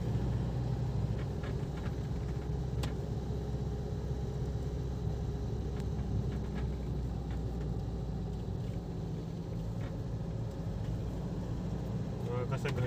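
A Force Gurkha is driven along a winding jungle road near Mandrem Beach in North Goa, a steady low engine and road rumble droning throughout with faint cabin noise.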